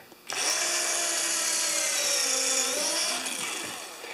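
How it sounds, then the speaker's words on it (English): A power drill bores a pilot hole for mounting a carpenter's vise, whining steadily at close range for about three seconds before winding down. "So we're going to put a pilot hole there."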